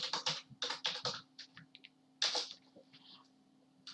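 Typing on a computer keyboard while entering spreadsheet labels in LibreOffice Calc, heard as quick clusters of close, crisp key clicks with short pauses between bursts, over a faint steady hum.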